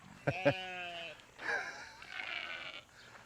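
Sheep bleat on a farm, with two short calls close together and then a longer, wavering bleat, followed by a fainter call farther away over quiet outdoor background.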